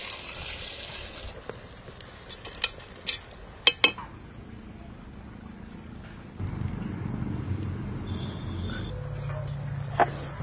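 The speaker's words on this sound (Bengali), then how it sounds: "গামলাটা ধুয়ে একটু জল দিয়ে দিচ্ছি।" A metal basin being rinsed in a kitchen, with sharp clanks and clinks of the pan early on, then a stretch of running and splashing water poured in.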